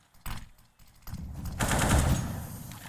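Gunfire in a Counter-Strike match, a few muffled shots early followed by a denser, louder burst of firing in the second half.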